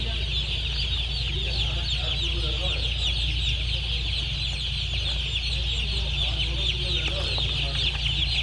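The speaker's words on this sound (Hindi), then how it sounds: "आज ही हैच हुआ है अंडे में से, पहले दिन का चूजा।" Newly hatched day-old Ross broiler chicks, about 42 grams each, packed around a hundred to a basket, chirp in a dense, continuous, high-pitched chorus over a steady low hum, with no talk.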